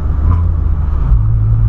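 A 2008 Volkswagen Polo Sportline sedan idles with a loud, deep, close engine rumble that swells slightly in a brief rev about midway, steady and continuous with no talking.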